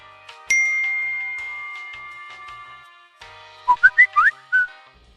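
Phone notification sounds go off one after another: a sharp ding with a sustained ringing tone, then a few soft chimes, and finally a quick run of bright whistled chirps, clear and close with no talking.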